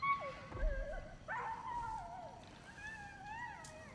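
A creature whining in the video game God of War Ragnarök, a series of high, wavering whimpers and drawn-out howl-like cries rising and falling over a quiet background.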